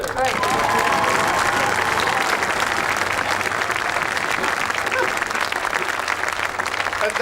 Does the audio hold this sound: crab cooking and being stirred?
no